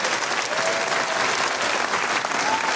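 A live comedy show crowd in a theatre hall applauds loudly and continuously, a dense sustained clapping with faint voices in the mix.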